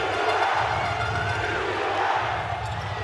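A basketball home crowd roars and cheers after a three-pointer in a playoff game, a dense, steady wall of noise with no talk over it.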